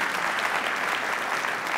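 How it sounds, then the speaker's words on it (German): Audience at a stage opening event clapping steadily, dense continuous applause from a sizeable crowd filling the whole stretch at even loudness, no talk over it. "Ja, Sie dürfen auch klatschen"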